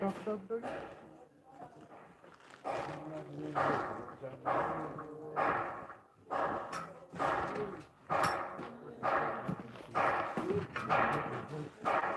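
A dog barks and yips in repeated short bursts, close and fairly loud, interleaved with a person talking throughout.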